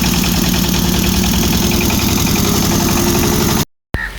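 Small engine running steadily to power a feed grinder on a quail farm, a loud continuous chugging drone with mechanical knocking, cut off abruptly near the end before a brief return.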